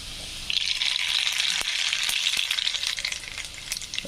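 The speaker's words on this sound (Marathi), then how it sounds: "छानपैकी असं तळू द्यायचं आहे त्याला फ्राय झालेला आहे" Mustard seeds fry in hot oil in a kadhai with garlic, giving a loud, close, continuous crackling sizzle with a few sharp pops and no talking.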